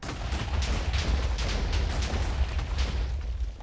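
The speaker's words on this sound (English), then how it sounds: "after lit, it shoots TNT in the air and comes crashing down" Modded Minecraft TNT explodes in a steady, dense rumble of overlapping booms, loud and continuous throughout with no pauses or talk.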